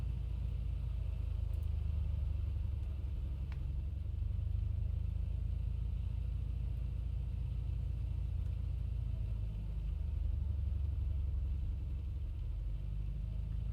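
A Beechcraft Bonanza piston engine in a flight simulator, with the propeller being cycled before takeoff, gives a steady, fairly loud low drone with only slight swells in pitch and no voices.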